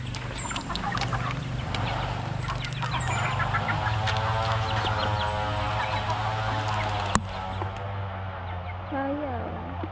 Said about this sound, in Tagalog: Hirap naman kung manok na to.